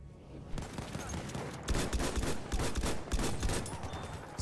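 An automatic sniper rifle fires in Battlefield V, a steady stream of loud, close, rapid shots that runs throughout amid the din of battle.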